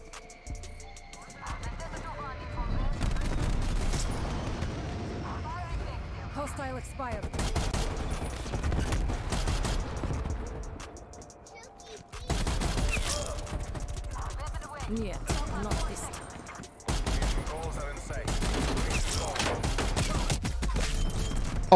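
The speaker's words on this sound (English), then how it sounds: "This DMR setup is nuts. Fast fire rate, high damage." Rapid, loud bursts of DMR 14 rifle fire in a first-person shooter video game, long sustained volleys broken by short pauses, heavy and close, with a player talking over the shooting.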